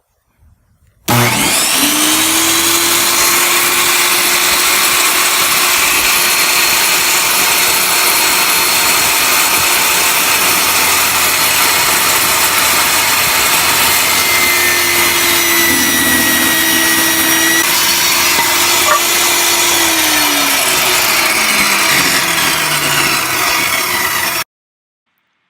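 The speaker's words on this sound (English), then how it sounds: "So we're getting ready to start the table saw." A table saw starts up and cuts reclaimed wood planks for an industrial desk: a loud motor whine spins up abruptly, holds steady for about twenty seconds with the pitch dipping slightly under load during the cut, then shuts off.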